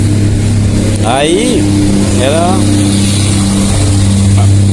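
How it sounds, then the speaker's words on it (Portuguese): A noisy truck passes close by on a street, its loud, steady engine drone filling the scene while a voice speaks briefly over it. "passou um caminhão aqui barulhento"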